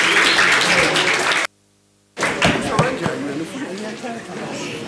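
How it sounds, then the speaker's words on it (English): An audience at a community gathering on elections applauds itself in a dense burst of clapping, briefly cut to silence and then resuming with voices mixed in. "Give yourselves a round of applause."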